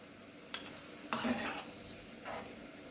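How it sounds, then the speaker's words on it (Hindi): Raisins frying in ghee give a soft, low sizzle under a few scraping stirs and light utensil clinks, with one sharper clatter in the middle. "अब घी में हम डाल देंगे किशमिश।"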